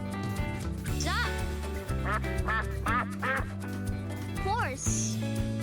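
A duck quacks in a few short nasal bursts over a steady background music bed, with a voice speaking between the calls.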